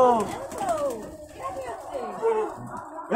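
Several pigeons feeding together coo softly in the background while people talk over them, the birds' calls faint and partly masked by the voices.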